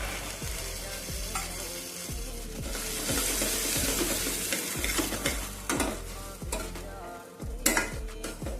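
Chickpeas with chole masala sizzle and fry in a pan while a spoon stirs them in a regular scraping rhythm, close and fairly quiet.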